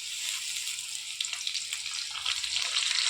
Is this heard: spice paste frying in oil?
yes